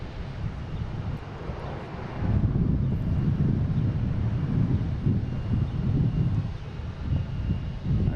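Airliner landing at Boston Logan Airport, a deep low engine roar that swells after a couple of seconds and holds steady, heard from a distance with some wind buffeting the microphone.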